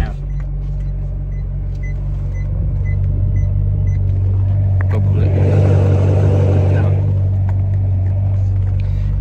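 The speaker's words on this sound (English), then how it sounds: "There's also rattle, which sounds like from the gearbox." Idling engine of a used supercar with a suspected gearbox or clutch fault: a steady low drone throughout, joined midway by a harsher rattling wash of noise for about two seconds before settling back.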